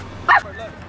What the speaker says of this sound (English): That's my puppy.